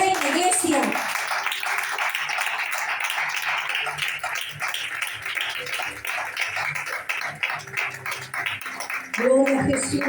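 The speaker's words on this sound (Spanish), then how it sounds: "Hágale fuerte las palmas a aquel que vive y reina, iglesia" A church congregation claps loudly and steadily at an evening Christian service, sustained crowd clapping with voices speaking over it at the start and end.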